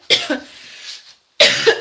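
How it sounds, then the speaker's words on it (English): A person in a home kitchen coughs in two hard bursts, each made of a couple of harsh, close, loud hacks, separated by a brief moment of near silence. "having a coughing fit in the middle of my video"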